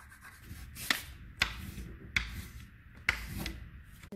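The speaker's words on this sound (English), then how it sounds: "she's just going to fill in that space, again, just laying it flat and just doing a really fast rubbing" Crayon laid flat and rubbed quickly across paper to fill in a colored area, a soft continuous scratchy rasp broken by several sharp taps, close and fairly quiet.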